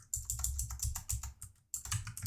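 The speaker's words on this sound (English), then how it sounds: "So now here we're gonna type" Bursts of fast typing on a computer keyboard, close and crisp, with a brief pause before the clicking resumes; no voices.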